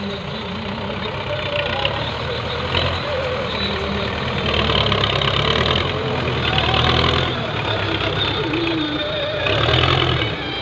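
A tractor hitched to a loaded trolley idles steadily nearby, its low engine chug continuous and loud throughout with faint background noise.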